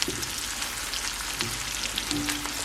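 Onions and bacon frying together in a pan on a stovetop give a steady, close crackling sizzle that runs without a break, with a soft faint tone rising near the end and no talking.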